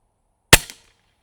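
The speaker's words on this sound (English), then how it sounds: "Yeah, I shot with 2 pellets." A cheap bullpup air rifle fires a single loud, sharp crack loaded with two pellets, a brief close snap with a short tail, set against silence.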